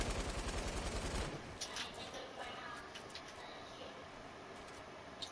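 Sniper gunfire in the video game Fortnite, with a rapid loud volley of shots at first, then scattered fainter cracks over a steady background.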